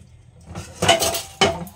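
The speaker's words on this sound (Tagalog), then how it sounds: "Hugas muna tayo ng pinggan mga Mars para makapagluto na ako." Dishes being washed by hand in a home kitchen, plates and cutlery clinking and scraping in quick bursts, with two sharper clatters close by and no talking.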